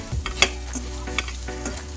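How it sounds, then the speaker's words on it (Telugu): Turmeric and spices being stirred into a frying meal maker rice mixture, with a close sizzle under quick spoon scrapes and one sharp tap against the pan. "పసుపు కొంచెం వేసుకుందాం, కలర్ఫుల్గా ఉంటుంది అండ్ మంచిది కదా. మంచిగా మిక్స్ చేసుకుందాం."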